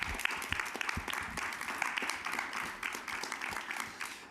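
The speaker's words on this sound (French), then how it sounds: "je vais vous demander de bien vouloir l'applaudir pour la vidéo qu'elle nous a faite" Audience applause at a French forum on promoting people's rights, with a hall full of hands clapping steadily at moderate volume, individual claps audible throughout, no speech.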